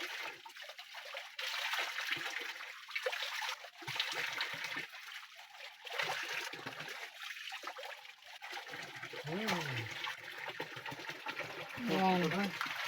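Cold spring water runs steadily through a bamboo spout at a mountain spring, a continuous trickling flow with people talking over it throughout.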